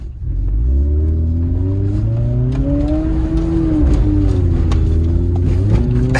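A Ford 4x4 race truck drives and drifts on a sloppy muddy track. Its engine roars loud and close with rising and falling revs throughout, and no one talks.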